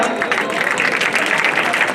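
An audience at the UTKARSH 2020 event claps loudly and continuously, a thick, even wash of applause from a large crowd.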